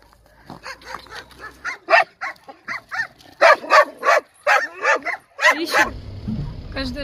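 A farm dog barks and yips repeatedly in quick, uneven bursts, loud and close, with a few whimpering notes, before a low engine rumble comes in near the end.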